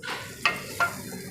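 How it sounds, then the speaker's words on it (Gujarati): A steady hiss of hot oil tempering poured into dal, with two sharp crackling bursts, close and fairly quiet, with no voices. "આ વઘાર આપણે ડાયરેક્ટ આમાં રેડી દઈશું"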